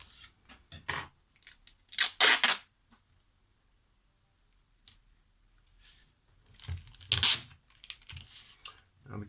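Transparent sellotape being torn from the roll and pressed down for an adhesive transfer, with sharp ripping bursts and small crinkly taps separated by silence, close and fairly loud.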